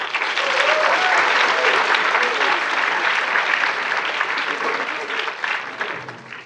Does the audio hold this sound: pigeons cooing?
no